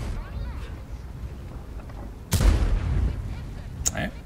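Tank gun fire in World of Tanks, with a Centurion AX and an E100 in play: a sharp booming shot midway and a second crack near the end, over a low rumble with someone talking.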